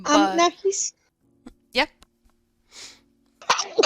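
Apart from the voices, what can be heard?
sneeze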